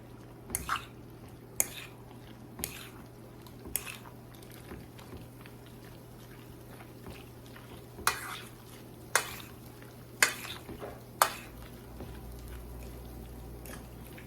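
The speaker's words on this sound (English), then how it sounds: "And you just stir it around and get it all fully incorporated." Quiche filling with meat is stirred in a bowl, with a spoon or whisk tapping and scraping against the side in irregular sharp clicks over a quiet steady hum, close and without talk.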